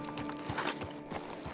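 Horse hooves clip-clopping at a quick, steady rhythm in the open-world western game Red Dead Redemption 2, heard close and continuous with faint background ambience and no talking.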